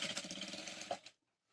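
A sewing machine running in one fast burst as it stitches pieces of an old silk saree together. It rattles rapidly for about a second, then stops, leaving near silence.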